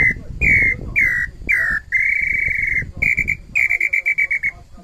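A wooden jacarandá bird-call whistle (pio) imitates a bird with loud, clear, close whistled notes, first several drawn-out calls and then a quick, stuttering series of short chirps.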